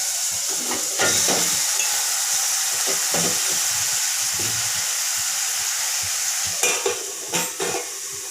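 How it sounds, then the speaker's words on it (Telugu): Marinated chicken frying in a pan, with a steady loud sizzle and hiss and several scraping stirs of a spoon against the pan. "ఇప్పుడు మనం మ్యాగ్నేట్ చేసి పెట్టుకున్న చికెన్ వేసేస్తున్నాం"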